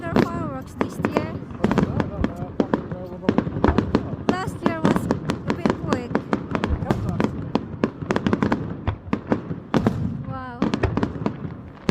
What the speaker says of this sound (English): I think they got longer fireworks this year than the last year.